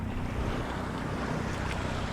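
Waves slap against a small fishing boat's hull under steady, blustery wind noise and a low continuous rumble.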